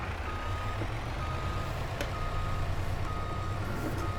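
Reversing beeps from a lorry in the Farming Simulator 22 video game, a steady repeating tone over a continuous low engine drone, moderately loud and unbroken by talk.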